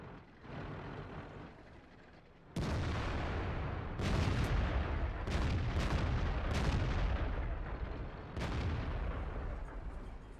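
Tank cannon fire in a tank video game, a sudden heavy boom followed by several more loud blasts in irregular succession, each with a rumbling tail over a continuous engine and battle drone.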